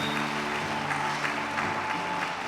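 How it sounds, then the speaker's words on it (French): A church congregation bursts into sustained, loud applause, with a dense wash of clapping from many hands throughout and no speech over it. "je demande à toute l'assemblée d'acclamer très fort"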